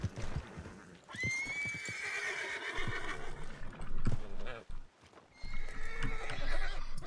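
Horse in a Western roleplay video game gives a loud, drawn-out whinny, followed by clip-clop hoofbeats and snorting, with someone talking over and between the sounds.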